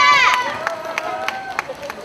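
Scattered claps from a rally crowd on Geumnam-ro in Gwangju greet a university student speaker at a candlelight protest, sparse and moderately close, following a brief voice at the start.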